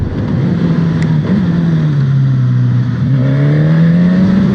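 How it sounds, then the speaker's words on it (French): A Suzuki GSX-S1000 motorcycle engine pulls hard under acceleration while ridden on the road, a loud, continuous growl that dips and then climbs steadily in pitch. "Sympa ce bruit de moteur, hein."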